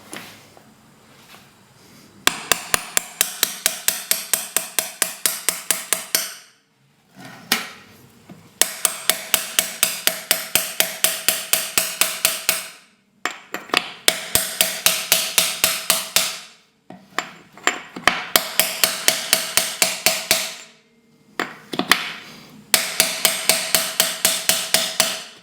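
A drift is hammered to seat a bushing in a BMW ZF320 transmission, with rapid, evenly spaced metallic strikes coming in five long bursts separated by brief pauses, close and sharp with no talking.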